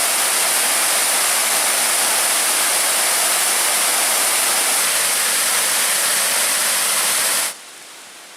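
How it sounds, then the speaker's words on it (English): A small waterfall, Mosquito Falls at Pictured Rocks, Michigan, gives a loud, steady broadband rush of falling water that continues unbroken, then cuts abruptly to a quieter hiss near the end. "Oh, that's a beautiful small waterfall."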